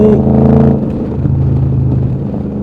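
A car left abandoned for over a year, on worn tires, accelerating up to about 60, its engine tone rising and then settling into a loud, steady rumble with some cabin clatter.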